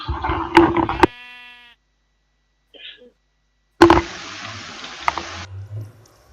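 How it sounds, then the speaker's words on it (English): A sheep in the Minecraft video game lets out a short synthetic bleat, heard briefly between other game sound effects and someone talking. "Load of naked sheep."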